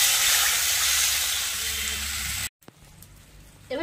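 Water poured into a hot frying pan for a Bengali mourola fish curry, giving a loud, steady sizzle and hiss for over two seconds before cutting off, followed by quieter kitchen clatter.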